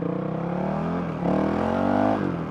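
A Honda CRF 450 RL single-cylinder thumper engine runs steadily close by, its droning note rising slightly in pitch and getting a bit louder halfway through, as if the throttle is opened.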